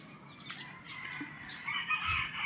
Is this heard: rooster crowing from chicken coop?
yes